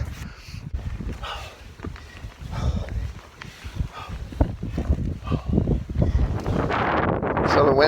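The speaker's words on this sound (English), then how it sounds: "the wind started picking up about halfway up the home stretch" Gusty wind on a mountain hike up Longs Peak, roaring and buffeting against the microphone in uneven surges that build toward the end, with faint footsteps and occasional talking beneath it.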